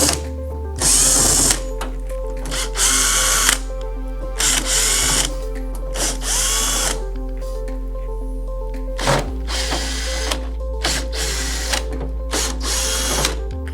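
Power drill backing screws out of the side covers of an EdenPURE heater, a steady motor hum rising into repeated loud whirring bursts of a few seconds each, close by with no talk.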